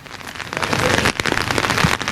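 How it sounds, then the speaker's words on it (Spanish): Heavy rain pelting down in Pinsoro, Aragón, hard enough to sound almost like hail: a dense, loud, steady patter of drops with scattered sharper impacts, continuous throughout and with no voices. "La lluvia. Mira, escucha,"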